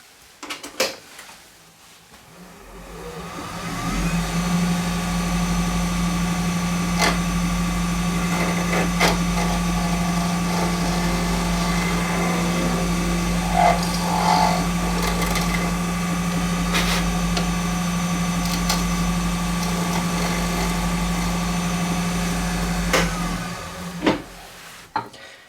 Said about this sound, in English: I can get away with using the small carbide tool and just get in there and cut where I need to.